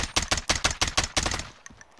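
Rapid automatic gunfire with recoil in a shooter video game, about ten close, loud shots in a fast even rhythm that stops abruptly and leaves faint echoes.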